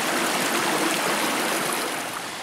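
A river stream flows past a riverside camp, with a loud, continuous rushing and burbling of water that stays steady throughout and is heard up close, with no talking.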